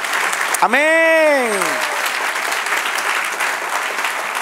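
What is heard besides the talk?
church congregation applause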